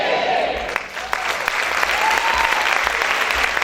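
A church congregation applauding loudly and continuously, a dense close burst of clapping from many hands, with faint voices mixed in.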